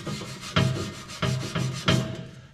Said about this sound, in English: a lot of the remaining paint is coming off with the brush